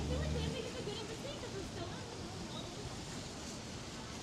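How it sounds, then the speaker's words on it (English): Gusty wind on 57th Street in Midtown Manhattan at night, a steady broadband roar buffeting the microphone, with a heavier low rumble in the first half second and then a sustained, even rush for the rest. "the crazy wind blowing now"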